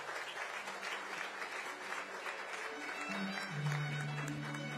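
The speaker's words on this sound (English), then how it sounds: "A huge round of applause," Sustained audience applause fills an awards-ceremony hall, steady and dense throughout, with a faint sustained tone rising underneath toward the end.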